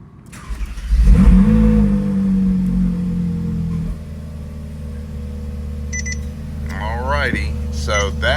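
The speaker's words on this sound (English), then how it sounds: "And then let's crank the car." A Ferrari 458 engine cranks and catches, then settles into a steady, close idle while a voice talks over it and a few short electronic chirps from a radar detector follow.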